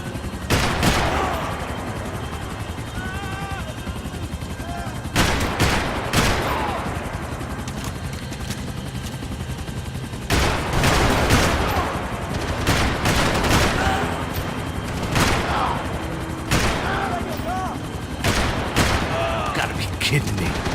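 Gunfire in the shooter Max Payne 3, repeated loud bursts of rapid shots and fusillades crackling in clusters over a constant roar, with voices shouting between the volleys.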